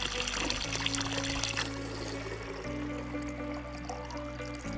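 Water pouring and trickling in a steady, continuous rush beside an alpine hiking trail in the early morning, close and fairly loud throughout with no talking.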